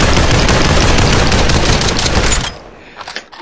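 Shotgun blasts in the VR battle royale game Population: One, a dense run of loud close shots that ends abruptly and leaves a few faint bumps.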